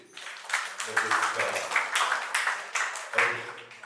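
Applause breaks out in a church hall during a wedding, with hands clapping in uneven bursts and a voice speaking over and between them.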